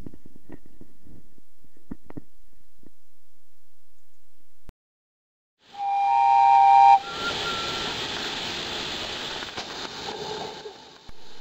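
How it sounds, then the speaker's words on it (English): A guard's whistle sounds one loud, sustained blast for about a second at a model engineering railway, followed by a rushing hiss as the model train prepares to depart. "Now the guard has blown his whistle"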